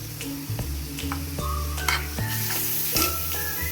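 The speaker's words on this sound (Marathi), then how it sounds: "त्याला चांगलं फ्राय करून घेऊया अद्रक लसूणची पेस्टला पण" Ginger-garlic paste sizzles steadily as it fries in a pan for chicken kheema, with a spoon repeatedly scraping and stirring through it at close range; no voices.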